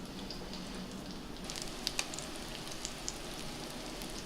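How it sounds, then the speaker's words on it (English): Trout in a cheese and Parmesan batter frying in hot oil, a steady soft sizzle and crackle with a few sharper pops, continuous and fairly quiet. "What you want to do is fry that fish on both sides till it's golden brown."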